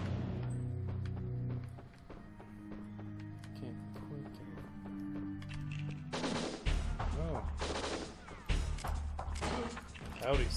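Gunfire in the Winback video game as shots hit a box, sharp bursts that grow denser and louder in the second half over game sounds, with some talk.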